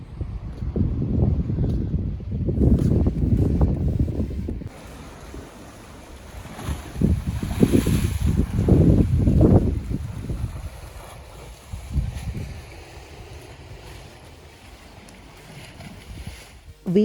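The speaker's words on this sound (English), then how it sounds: "he offered us to take us around the island a little bit more in his speedboat" A speedboat ride on the sea around Corfu, Greece: engine rumble, water slapping against the hull and strong wind buffeting the microphone, rising and falling in gusts, with voices briefly heard over it.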